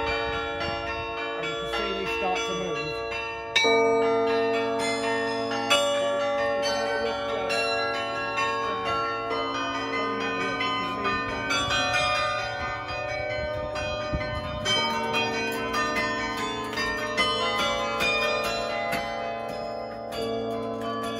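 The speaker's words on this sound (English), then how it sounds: "Bournville Carillon is made up of 48 bells, weighing around 17 tons, and playing across 4 octaves." Bournville Carillon, a set of 48 bells weighing around 17 tons across four octaves, rings out a steady melodic tune of overlapping struck tones with long sustained ringing, loud and continuous throughout.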